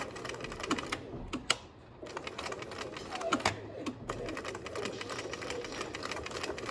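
A sewing machine runs a zigzag stitch through layered fabric for a medical mask, rapid mechanical clatter in bursts with short pauses between runs, close and moderately loud.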